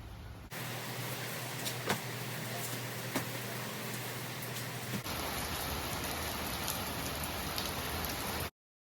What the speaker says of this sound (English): I'll show you guys the rain.